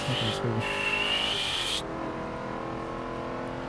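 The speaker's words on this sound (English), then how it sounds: "Let's try this Formula E car." Formula E electric race car driven in the racing game Forza 7, a steady high electric whine with engine-like tones that cuts off partway, leaving a lower continuous drone, loud and close.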